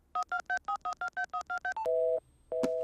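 A phone number is dialed on a mobile. About eleven quick, evenly spaced keypad beeps are followed by two longer, louder ringing tones with no speech.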